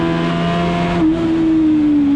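Race car in a hill climb race at Donzy-le-Pertuis, its engine droning loud and close from the onboard position, the tone dropping briefly as it shifts, then holding a steady high note.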